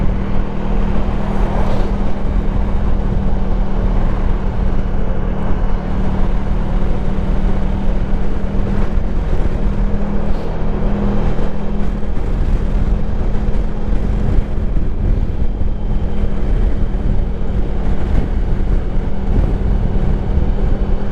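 A 24-year-old Honda Pan European ST1100 touring motorcycle ridden at speed on Cornish roads, a steady droning engine hum blended with constant wind rush, unbroken and close throughout.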